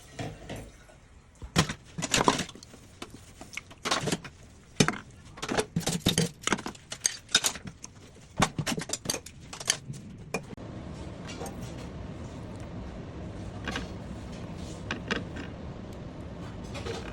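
Vegetables being sliced thinly for chopsuey: a run of sharp, irregular knife taps on a cutting board, close and crisp, then thinning out over low background noise.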